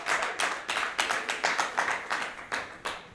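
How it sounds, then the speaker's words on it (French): Small audience clapping at a vintage television show, a short burst of brisk, uneven handclaps, moderately close and fairly quiet, with no talking. "Qu'on applaudit."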